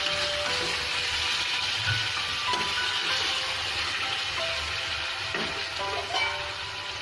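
Chicken fries on high flame in a pan, a steady broad sizzle hissing continuously at close range with occasional soft stirring scrapes and bubbling pops.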